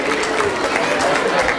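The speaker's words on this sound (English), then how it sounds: "Let's give them one more round of applause." A room full of people claps continuously, a dense wash of applause with no pauses.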